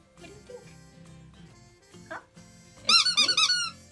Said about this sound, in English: It squeaks? He likes the squeaker.